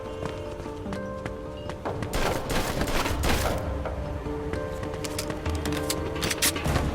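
Gunfire in the Mafia II video game, a dense run of shots and impacts mixed with background game sounds for about seven seconds, loud and steady throughout.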